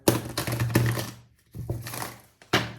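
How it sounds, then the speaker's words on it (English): A deck of tarot cards is shuffled in three quick bursts of riffling, crisp close-up clatter with short pauses between. "I like to have a clean shuffle before."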